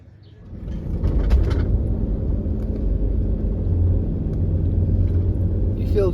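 Car engine rumbling steadily while driving a left-hand drive vehicle along a steep cliffside gorge road above the lake near Pluzine, Montenegro, loud and continuous from start to end.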